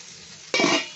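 Pointed gourd and sweet potato fry together in a pan for Bengali shukto. After a quiet half-second, a sudden loud burst of sizzling and stirring rises and holds briefly.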